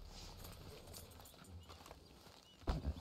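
Soft, steady hoof clops of a horse walking in Red Dead Redemption 2, faint under a low ambient hum, with a louder thump near the end.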